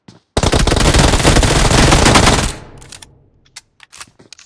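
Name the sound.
gunfire in a battle royale video game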